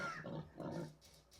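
A faint, short grunting oink from a pig in the block-building video game Multicraft, two soft snorts over a quiet game background with no talking.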